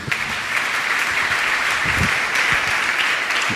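A church congregation applauding together, dense sustained clapping filling the whole stretch at a steady loud level.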